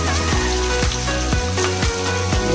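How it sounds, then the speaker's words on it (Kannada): Sliced onions and urad dal sizzle in hot oil in a pan, a steady close frying crackle with soft periodic scraping strokes of a spatula. "ಇವಾಗ ಕಟ್ ಮತ್ತೆ ಈರುಳ್ಳಿ ಹಾಕ್ತಾ ಇದ್ದೀನಿ"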